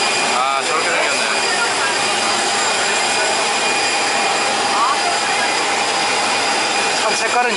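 A VietJet airliner's jet engine roars steadily at an airport, a loud continuous whine and rumble that runs throughout without a break.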